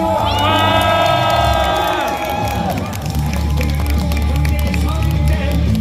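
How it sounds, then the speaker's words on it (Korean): A large crowd at an outdoor presidential campaign rally near Yatap Station cheers and shouts loudly, with whistles and whoops early on, sustained noisy crowd roar throughout and voices mixed in. "이제 이재명 후보가 차에서 내린 모양입니다. 박수 부탁드리겠습니다."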